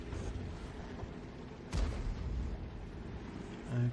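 A single heavy artillery boom as a World of Tanks GW E100 shell strikes an M103 tank, a sharp blast rolling into a rumbling low tail over steady battle ambience, with another thud near the end.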